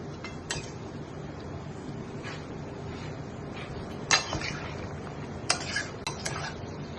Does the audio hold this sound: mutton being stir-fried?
yes